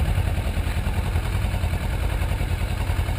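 A motorcycle engine runs steadily at low revs as the clutch is eased out in first gear, a close, even rumble with a faint mechanical clatter and no clear rise in pitch.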